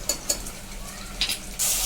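Ginger garlic paste is stirred into onions frying in a pan for a cauliflower, potato and pea masala, giving a soft continuous sizzle broken by a few quick scraping stirs and a louder burst of frying near the end.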